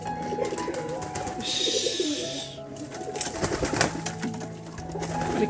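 Pet pigeons coo repeatedly nearby in soft, throaty calls, with a burst of hissing noise in the middle and some rustling.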